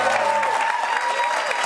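A brief burst of audience applause rings out at a political candidate event. The clapping is steady and fairly loud, with a faint tonal hum running underneath.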